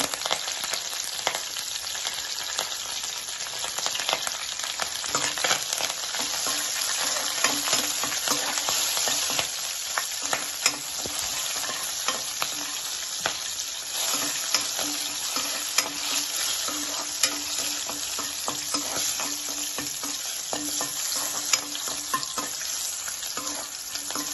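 Green chilies and curry leaves crackling in hot oil with tempering seeds, a dense, loud, unbroken sizzle with small pops and stirring scrapes throughout.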